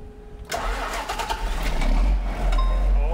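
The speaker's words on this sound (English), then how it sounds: "What are the odds this tractor will start?" Farm tractor engine cranking and catching, firing up after a brief whir and settling into a loud, rough, steady running rumble close by.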